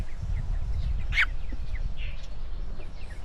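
A single short hen cluck rises above steady low rumbling background noise, with a few faint chirps around it.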